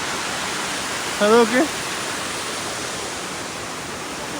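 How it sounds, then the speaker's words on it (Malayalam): A waterfall beneath a bridge in a forest village in Sikkim roars steadily and evenly throughout, loud and continuous, with a brief spoken word over it. "ഇതേ ഒരു പാലം, താഴത്തൊരു വെള്ളച്ചാട്ടം."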